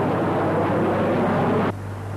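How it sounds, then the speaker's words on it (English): A BAC-111 jet and a Harrier jump jet make a formation flypast, a broad loud jet roar that cuts off abruptly near the end, leaving a lower residual rumble. "Accompanied by a Harrier jump jet, these aircraft joined up for a flypast."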